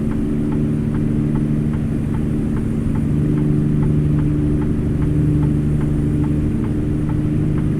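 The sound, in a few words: loud truck turn signal blinker clicking in American Truck Simulator video game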